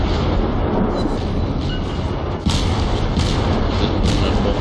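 Warship cannons fire in the World of Warships video game, heard as a dense, loud, continuous rumble with a few heavier booms rising out of it near the end.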